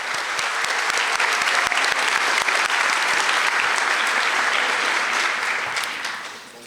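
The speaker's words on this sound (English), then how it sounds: "Let's give a round of applause for our seniors" Audience applause for the seniors at the Olathe North senior awards night, a loud continuous wash of clapping from a large crowd that holds steady, then fades away at the end.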